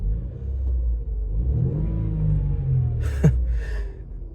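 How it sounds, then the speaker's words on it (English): A Mercedes W202 C-Class four-cylinder petrol engine running smoothly and quietly, a soft low hum that rises gently in pitch as it revs, with a brief vocal sound near the end. "That engine is just so smooth and quiet."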